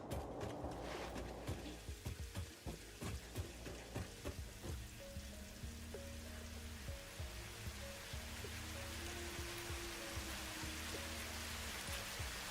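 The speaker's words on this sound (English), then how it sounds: "I think it's raining." Rain falls in a factory-building video game, a soft constant hiss beneath scattered clicks and short tonal game beeps, quiet and with no one speaking.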